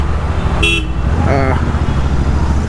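Dense Bangalore street traffic rumbles steadily close by while two short car horn toots sound a moment apart, and someone talks over the traffic noise.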